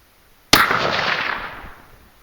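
A single sharp gunshot from a .308 rifle, loud and close, with a long rolling echo that fades over about two seconds.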